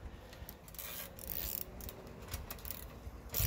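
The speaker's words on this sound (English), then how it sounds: "Now it's time to retighten the rear axle." Wrench retightening the rear axle nuts of a Rosso ebike X electric dirt bike with 14 mm and 17 mm spanners, giving close ratcheting clicks and metallic scrapes in short bursts.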